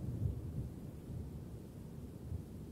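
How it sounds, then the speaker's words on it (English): Thunder rolls in a storm as a low, faint, sustained rumble with a few slightly stronger swells, distant and muffled, with no voices. "feel the plane rumble with every crack of thunder"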